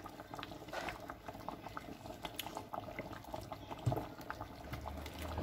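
Peanut sauce with smoked fish simmering in a pot, a steady low bubbling and soft popping patter running throughout, close and moderately quiet with no talk.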